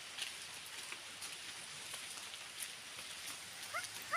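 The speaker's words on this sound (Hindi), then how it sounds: "बारिश आ रही है।" Rain falls outdoors as a steady, fairly faint hiss of drops spattering on surfaces, with a few brief chirps and clicks on top.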